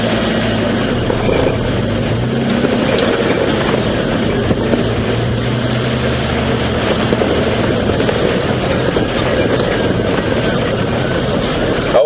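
A safari vehicle drives over a very bumpy road at Djuma Game Reserve, its engine a continuous close rumble with wind buffeting the microphone and no pauses.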